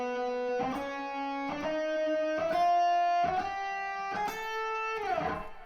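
Electric guitar picking a chromatic pattern of single notes in a long-short rhythm, clean and fairly quiet, each note sharply attacked and rising step by step over about six seconds, with no talking.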